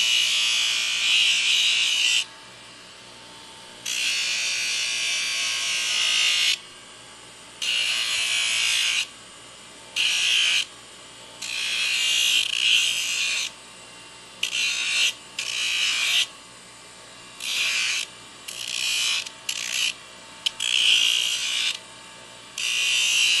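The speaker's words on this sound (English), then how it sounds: "that's really what I'm coming to the grinder for. I'm just gonna kind of make this look a little shiny is all" A grinder smoothing a steel horseshoe, a loud high whining grind coming in repeated bursts of varying length with short pauses as the shoe is pressed on and lifted off.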